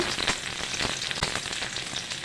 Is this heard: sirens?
no